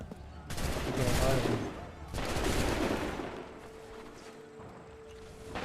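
Gunfire in Assassin's Creed 3 bursts out as two dense, loud volleys of musket-style shots in quick succession, then fades to a lower rumbling din with a faint sustained tone.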